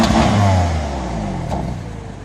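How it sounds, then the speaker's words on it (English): A new BMW M3 engine revs briefly, a loud close rise and fall in pitch over a steady exhaust rumble, with no voices. "Rev it up a little bit."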